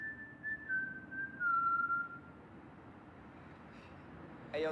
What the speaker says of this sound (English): He whistling again.